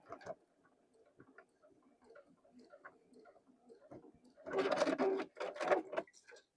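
A sewing machine stitching a small fabric mini tote key chain, starting with faint intermittent ticking and building to a louder, rapid mechanical whirring burst near the end.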